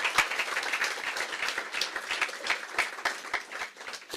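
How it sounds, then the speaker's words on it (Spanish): A church congregation applauds together, with dense, steady clapping that continues throughout, loud and close. "Dale un aplauso al Rey."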